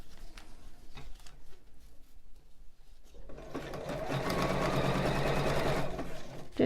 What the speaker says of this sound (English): So I'm going to sew all the way to the end.